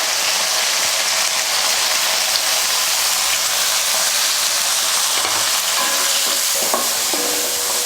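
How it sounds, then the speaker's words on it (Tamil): Onion, garlic and turkey berries (sundakkai) sauté in a pan with a loud, steady, close sizzle, while occasional scraping stirs rise above it. "வெங்காயம், வெள்ளைப்பூண்டு, சுண்டைக்காய் இது 3மே நல்லா வதங்கட்டும்."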